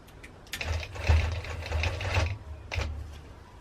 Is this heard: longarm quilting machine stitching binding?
yes